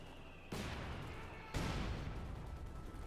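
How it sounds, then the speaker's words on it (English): Mortar fire in the strategy game Company of Heroes 2 sounds as two heavy booming launches a second apart, each leaving a dense rumbling wash of battle noise that stays loud to the end. "Mortars firing at other targets around the Schwerpanzer quarters."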